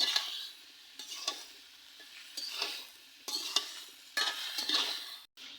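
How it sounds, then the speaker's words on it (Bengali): Pieces of bottle gourd stirred in a cooking pot over a stove, heard as several close, repeated scraping stirs over a soft sizzle, each sweep of the spoon separated by brief pauses, with no voices. "এই যে এখন লাউগুলো দিয়ে নেড়ে নেব"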